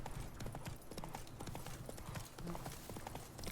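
Roach, a horse in The Witcher 3, trots with steady clip-clopping hooves, soft and somewhat distant over faint ambient noise.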